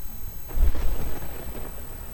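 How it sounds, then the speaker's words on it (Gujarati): Thunderstorm with rain over Chhabriyali and Ogalvad villages in Jesar taluka, Bhavnagar district: a steady rain hiss with a deep rumble of thunder swelling briefly near the start, with no voices. "છાબરીયાળી અને ઓગલવાડમાં વરસાદ પડ્યો છે"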